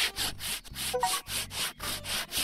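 A sander works in the video game Garage Flipper, its rhythmic back-and-forth rubbing strokes repeating about every third of a second, close and steady with no talking.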